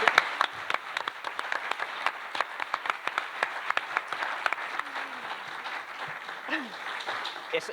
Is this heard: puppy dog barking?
no